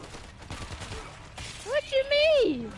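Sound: gunfire in the video game World War Z

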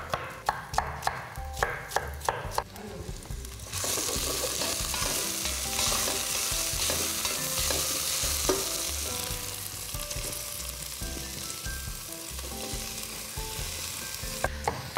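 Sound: sweet red pepper frying with onions and garlic

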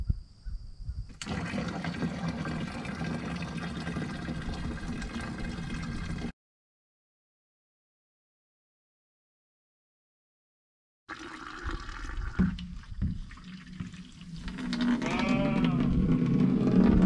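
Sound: liquid draining out of a rusted 55 gallon drum

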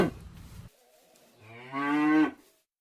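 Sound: cow mooing

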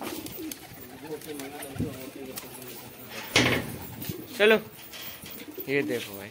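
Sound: pigeons cooing while feeding

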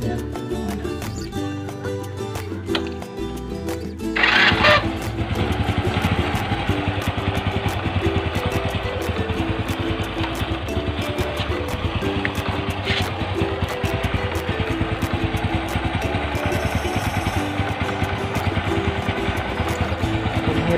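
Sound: motorcycle engine idling

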